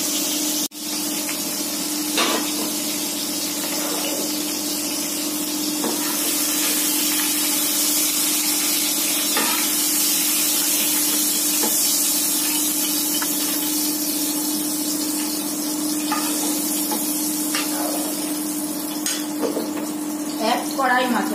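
Fried bata fish slipped into a simmering curry broth in a kadai gives off a loud, steady broadband hiss and sizzle that runs the whole time, with occasional soft clinks and stirs on top.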